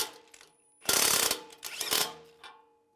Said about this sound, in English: we're gonna take a 15mm socket and tighten it down